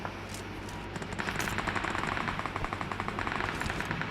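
Rapid automatic gunfire in the mobile game BGMI, a fast rattling stream of shots that starts about a second in and runs nearly continuously to the end over a low background hum.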